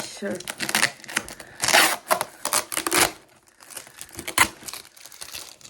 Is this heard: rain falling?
no